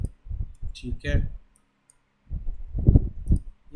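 Computer mouse clicks on a Next button during a website setup, a few sharp clicks mixed in with continuous nearby speech.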